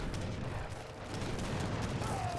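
Mortar fire from an Age of Empires III: Definitive Edition match thuds continuously with a steady rumble of distant booms and layered battle noise, without clear speech.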